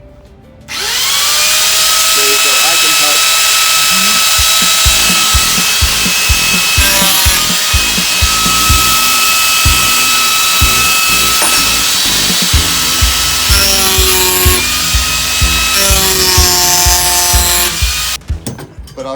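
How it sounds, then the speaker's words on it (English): A spring-loaded reciprocating power tool starts up and runs loudly and close for most of the time. It gives a steady high whine with a fast buzzing stroke rhythm, and the pitch shifts now and then before it stops. "Now, these reciprocating tools,"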